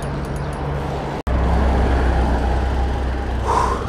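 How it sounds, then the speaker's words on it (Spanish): Steady traffic rumbles along a busy avenue, a continuous broad roar of passing cars and heavier vehicles with a brief dropout near the start, heard close and without voices. "Lo malo es que hay muchos carros el día de hoy. Es una avenida muy transitada"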